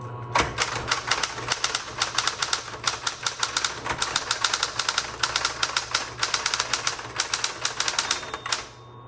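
Steady, rapid keystrokes clack on a Smith Corona Chancellor manual typewriter, close and loud, with the mechanical rattle of the typebars running for several seconds without a pause.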